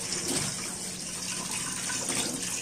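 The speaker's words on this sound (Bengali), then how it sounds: "প্রথমে মাছটাকে ভালো করে ধুয়ে পরিষ্কার করে নিতে হবে।" Running tap water splashing steadily as rohu fish is washed clean in a kitchen sink, a continuous close gurgling flow with no voices.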